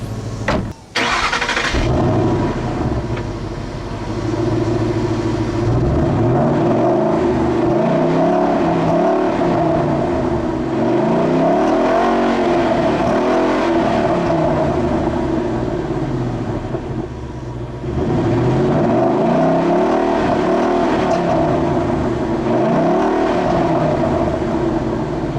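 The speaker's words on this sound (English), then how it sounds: "The exhaust is definitely different from the standard GT. Very aggressive, very mean sounding V8." A loud, deep V8 engine of a 2013 Ford Mustang Boss 302 Laguna Seca rumbling continuously for about twenty-five seconds through an aggressive exhaust, with repeated throaty rises and falls in pitch as it revs.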